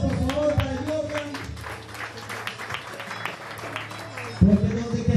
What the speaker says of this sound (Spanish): Fuertes aplausos, por favor, para el Jordan.